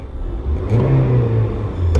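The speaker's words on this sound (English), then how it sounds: "The car is currently running" Car engine running and revving up close, a steady low hum that swells into a louder whirring rise before settling and rising again.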